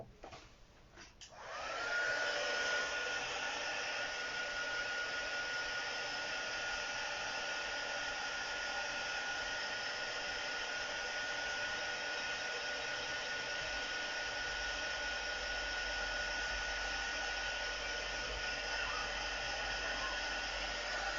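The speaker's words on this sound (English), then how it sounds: "I'm just going to give it a quick blast with the heat tool to make sure that none of that ink is wet" Heat tool blowing hot air to dry ink, a steady loud whooshing hiss with a faint whine that kicks in after a brief click and runs on without pause.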